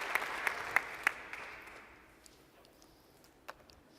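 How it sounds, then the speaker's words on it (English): An audience at a startup competition final, LeWeb London 2012, applauds to welcome a team onstage, starting with a few crisp, distinct claps that soften into fading applause over about two seconds, followed by near quiet. "Let's give them a round of applause."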